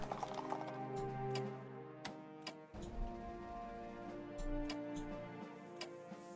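In the strategy game Strategic Command WW1, horses move with crisp clip-clop hoofbeats and ticking clicks in an irregular rhythm, quiet and close, over a faint steady background tone.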